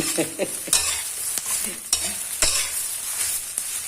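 Dried chilies fry and get stirred in a pan for Thai roasted chili paste, a close sizzling hiss broken by sharp scraping strokes of the spatula.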